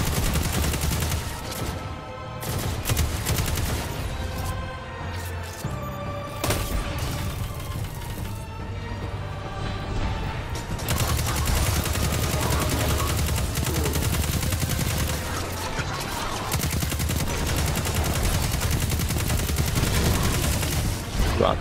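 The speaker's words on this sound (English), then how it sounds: "I'm gonna use this gun as much as I can." Sustained bursts of video game gunfire fill the stretch, loud and continuous, with repeated rapid shots and booms layered over music and game effects, and no speech on top.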